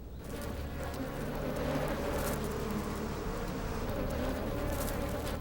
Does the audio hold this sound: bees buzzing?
yes